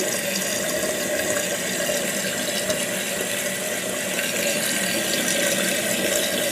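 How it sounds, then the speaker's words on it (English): Water runs steadily as a toilet tank refills through a new Fluidmaster fill valve, a constant hissing rush at close range with no pauses and no voices. "Let's see that it fills up all the way."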